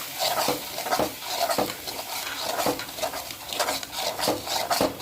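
Drumstick leaf chutney being stirred and tempered in a pan, with repeated scraping and clinking of a spoon against the metal in an uneven rhythm, close up and moderately loud with no voices.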